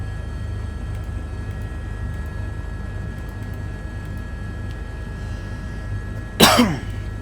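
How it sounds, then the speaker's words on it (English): A single sudden cough bursts out near the end, loud and close, after a stretch of steady low helicopter-simulator drone and faint background hum. "a little bit of a cough coming on here all of a sudden"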